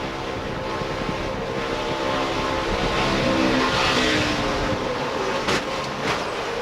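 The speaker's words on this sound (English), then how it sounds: "You heard him playing with the throttle even before he got sideways" A NASCAR Craftsman Truck Series race truck at Daytona roars continuously as the throttle is worked, the engine note wavering and surging, mixed with dense track noise and no talk.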